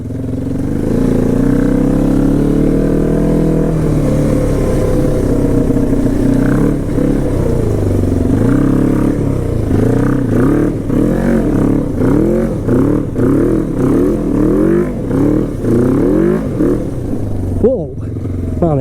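A 500cc quad bike engine revs loudly on a forest road, droning steadily and then rising and falling in repeated throttle surges with rattling over rough ground, under occasional talk.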